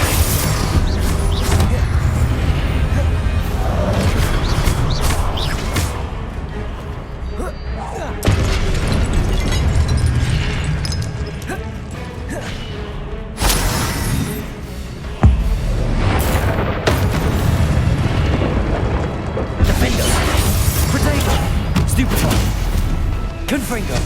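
Confringo blasting spells explode again and again in the Hogwarts Legacy video game, heavy booming blasts and crackling bursts layered over loud continuous battle noise, with a voice shouting spell names throughout.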